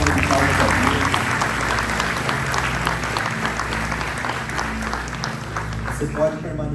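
A church congregation claps together in strong, sustained applause, loud and evenly dense, slowly thinning toward the end.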